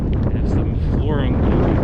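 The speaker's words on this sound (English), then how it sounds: "Yeah, it's windy out tonight." Strong wind blowing outdoors at night in a small town in Stockbridge, Georgia, buffeting the microphone in a loud, continuous, roaring rush for the whole moment.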